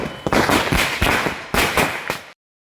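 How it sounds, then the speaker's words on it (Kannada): Firecrackers bursting at a village Ganesh Chaturthi immersion in the rainy season, a loud rapid string of sharp cracks and pops close by that cuts off suddenly. "ನೋಡಿದ್ರಲ್ಲ ಪಟಾಕಿ ಹೊಡೆದಿದ್ದು"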